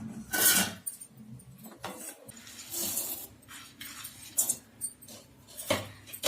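Roasted black chickpeas shaken and sifted from hot sand in an iron sieve, giving close, uneven metallic scraping and gritty rattling bursts with brief clinks, alone without talk.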